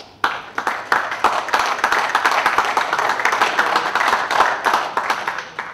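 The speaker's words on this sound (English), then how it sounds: "So let's give him an applause." A small audience at a talk on barefoot running claps, starting with sharp separate claps that quickly thicken into steady applause close by.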